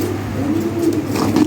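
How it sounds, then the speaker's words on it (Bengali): Active pigeons being handed over for delivery coo in a close, loud, continuous low murmur, with faint traffic noise in the background. "এই যে দেখেন একদম অ্যাক্টিভ কবুতর"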